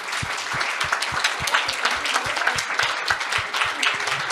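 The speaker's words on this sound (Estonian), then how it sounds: "kõigepealt me veel üks suur aplaus kõigile teile" An audience at an anniversary event for the equality commissioner's office bursts into steady, full applause, many hands clapping together loudly and evenly with a few prominent near claps cutting through, no speech over it.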